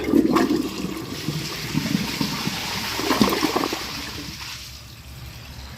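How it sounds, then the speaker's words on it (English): A Glacier Bay toilet, loaded with dirt, flushes with a loud close rush of swirling water that fades into gurgling and trickling as the bowl drains. "I'm going to wait for it to fill back up, and I'm going to give it another flush"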